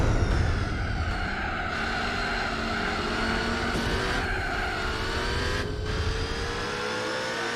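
Race cars roaring around a track in Gran Turismo 4, a Speed 6 among them, with steady loud engine drone and shifting revs throughout, no pauses and no talk.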